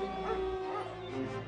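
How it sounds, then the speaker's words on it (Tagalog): Dogs in India barking together, a short burst of close yipping and whimpering barks layered over a steady tonal hum. "Sabay-sabay raw na nagtahulan ang mga aso sa hindi malamang dahilan."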